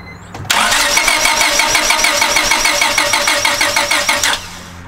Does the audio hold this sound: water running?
no